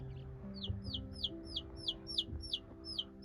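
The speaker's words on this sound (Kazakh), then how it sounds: "Балапандар осы." Chicks peep in a rapid, regular series of high cheeps over a low, steady hum, with hens faintly clucking underneath in a small poultry enclosure.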